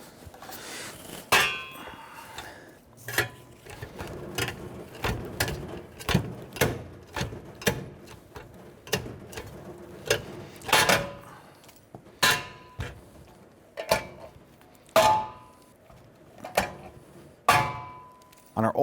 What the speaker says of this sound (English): we're going to use our rivet gun, and we need to rivet this